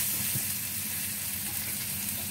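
Sliced papaya sautéing in a hot pan for tinola, a dense continuous sizzle with faint stirring scrapes, close and steady throughout, no talking.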